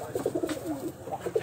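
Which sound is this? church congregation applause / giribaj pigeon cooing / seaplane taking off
giribaj pigeon cooing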